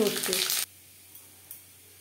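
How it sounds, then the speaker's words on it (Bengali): Mustard seeds, dried chillies and bay leaves fry in mustard oil with a loud crackling sizzle that cuts off abruptly, followed by near-silence and a couple of faint clinks. "সর্ষে, শুকনো লঙ্কা, তেজপাতা ভাজা হয়ে গেছে।"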